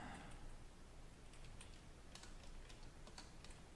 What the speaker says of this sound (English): I try to make sure I use my loudest keyboard so you can hear all of the keystrokes.